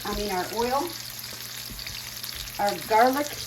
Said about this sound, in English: The chicken, as you can see, is cooking.